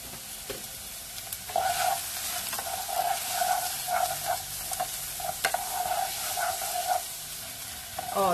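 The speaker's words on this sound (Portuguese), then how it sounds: "Vamos deixar fritar aqui um pouquinho, né? Refogar. Até dourar a cebola e o alho." Chopped onion and garlic frying in a pan, a steady broadband sizzle with occasional stirring scrapes and clinks of a utensil against the pan, fairly close and continuous throughout.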